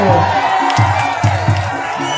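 Crowd cheering and shouting at a Thai boxing charity bout, loud and close, with rhythmic bursts of chanting every half second or so rising over the babble.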